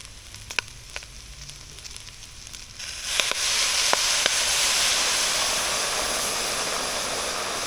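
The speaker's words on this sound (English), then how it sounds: "Alright, now we can add our stock." Stock poured into a hot pot of green crab corn chowder base, starting with a few faint clicks, then a sudden loud, steady rushing sizzle that holds close and even to the end.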